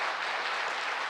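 An audience claps in a dense, steady burst of applause that fills the whole short moment, with no voices heard above it.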